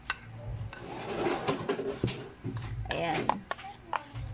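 A spoon stirs garlic mayo dip with onion chives in a bowl, giving soft scraping and clinking knocks close by, with a brief spoken word over the mixing.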